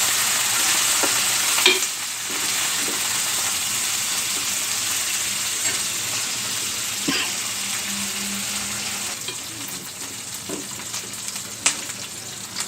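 Vermicelli and vegetables fry in a pan with a steady close sizzle, broken by scattered stirring clinks and scrapes throughout.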